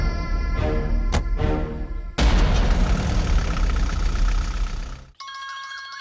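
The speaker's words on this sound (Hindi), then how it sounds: "अरे फोन है।" A mobile phone rings in a dramatic indoor scene, a repeating bright electronic ringtone that cuts in sharply after a brief stretch of low rumbling music, loud and close.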